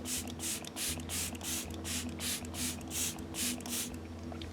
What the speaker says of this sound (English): The mist is a little bit on the aggressive side